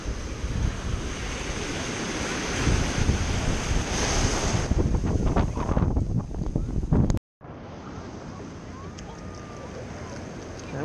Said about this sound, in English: But the waves won't get us.